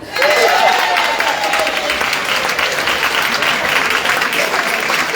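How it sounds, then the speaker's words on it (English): Steady applause from an audience at an arts festival launch greets the cast of The Snapper, a dense, sustained clapping with a brief vocal tone near the start. "So big round of applause to the cast of The Snapper."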